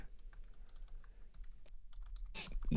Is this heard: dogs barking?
no